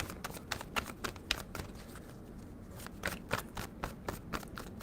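Tarot card deck being shuffled close up, a rapid series of crisp riffling snaps in two bursts separated by a short pause, alone without talk.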